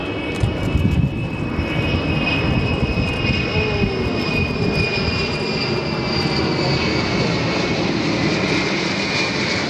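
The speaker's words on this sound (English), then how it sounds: "One of the best emergency landings. Despite the landing gear failure, the pilot managed to keep the plane perfectly balanced" A propeller plane makes an emergency landing after a landing gear failure, its engine drone steady and fairly loud for the whole stretch, with no voices.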